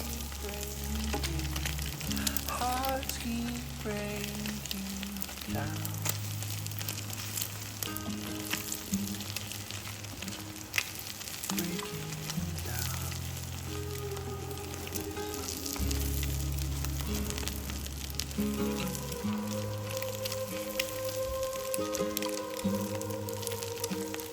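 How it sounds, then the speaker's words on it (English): Garlic, chili pepper and the white part of scallion fry in a pan for an egg stir fry, hissing in a steady close sizzle with occasional stirring squishes, under background music. "Add garlic, chili pepper, and the white part of the scallion, and fry until aromatic."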